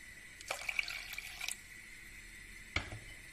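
Water poured into yogurt for a soup splashes in short bursts: a run of trickling and splashing early on, a pause, then one more sharp splash, quiet and close.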